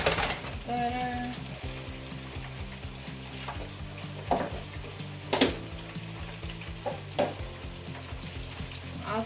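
Butter sizzling and frying in a hot pot while Jamaican stew chicken is cooked, a steady soft crackle with occasional stirring clatters and pot knocks, and no talk.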